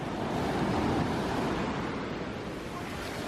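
Ocean surf breaks and washes steadily along a chilly California shoreline, a loud, continuous roar of churning water with wind buffeting the microphone close by.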